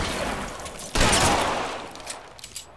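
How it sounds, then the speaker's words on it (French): Video game gunfire: a sudden loud burst of shots in the middle, then a sustained crackling fusillade that fades off, with a few scattered pops at the end. "il y a quelqu'un qui me tire dessus, je sais pas qui"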